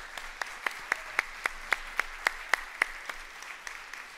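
A church congregation at Sunday morning worship applauds fathers on Father's Day, with evenly paced, fairly close claps ringing out about four times a second over a faint room hum and no talking.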